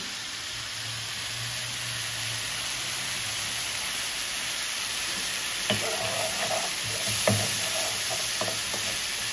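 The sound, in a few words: spice paste with yogurt being sautéed in pan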